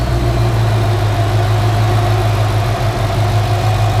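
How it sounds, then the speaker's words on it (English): A Ford Coyote V8 swap engine idles steadily, a low rumble even and close by, with no voices, holding a smooth, unchanging drone throughout. "Engine's nice and smoothed out."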